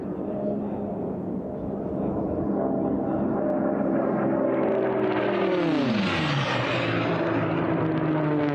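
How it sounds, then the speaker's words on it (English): A pace plane flies over an unlimited hydroplane race, its engine droning loud and close before the pitch sweeps downward as it passes by and moves away. "Pace plane's up and away."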